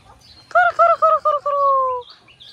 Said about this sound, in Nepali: ल हेर्नु साथीहरू मयुर कि मुजुर के भन्छ